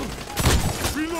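A few sharp gunshots crack out in The Expendables 2 video game, a quick cluster in the middle followed by another shot, mixed with a voice and background game sound.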